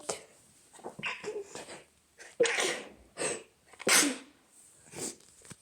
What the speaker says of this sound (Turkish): Hapşıracağım.